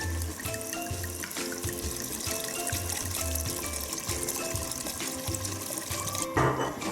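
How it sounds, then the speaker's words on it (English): Wine pours steadily from a bottle into a pot of bolognese sauce, a continuous close-up gurgling stream with a faint rhythmic low thumping beneath it. "let's add the wine, around 3/4 of this bottle."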